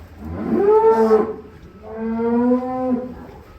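A giant bull lows twice in a farm pen, two long, loud, close moos separated by a short pause, with no speech over them.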